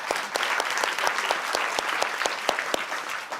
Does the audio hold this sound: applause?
yes